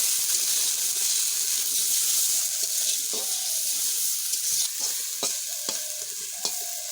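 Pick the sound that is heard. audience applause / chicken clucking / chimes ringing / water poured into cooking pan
water poured into cooking pan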